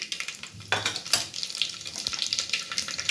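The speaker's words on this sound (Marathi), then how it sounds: "त्याच्यामध्ये जिरा मोहरीचा छान असा तडका बसलेला आहे" Mustard seeds and cumin tempering in hot oil for a traditional Bhogi vegetable dish, a close, steady sizzle with bright crackling and a few sharp pops throughout.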